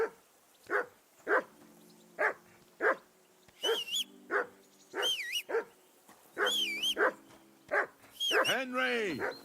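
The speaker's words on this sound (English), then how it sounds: "Whistle at that mutt of yours to stop barking." A dog barks repeatedly in the medieval video game Kingdom Come: Deliverance II, sharp evenly spaced barks running throughout, with whining yips and game dialogue voices mixed in between them.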